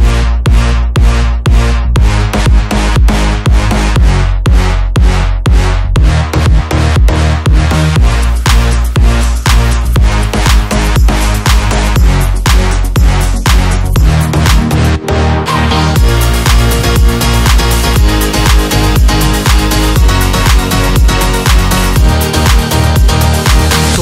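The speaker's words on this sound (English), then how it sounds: "how to make huge EDM drops that sound like" An EDM drop plays loud and dense, with pounding kicks on a steady four-on-the-floor pulse under layered synths and bass, driving continuously with a brief dip near the middle.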